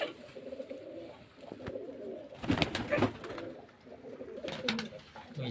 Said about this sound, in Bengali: দেশি বিদেশি সব রকম পায়রা পাবেন মোটামুটি